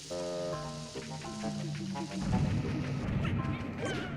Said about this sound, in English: Someone got caught in the explosion.